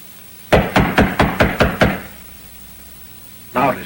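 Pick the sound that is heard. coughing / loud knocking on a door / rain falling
loud knocking on a door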